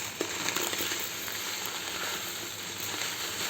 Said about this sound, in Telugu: ముందుగా ఒక స్పూన్ అయితే నెయ్యి వేసుకున్నాను సేమియా వేయించుకోవడానికి.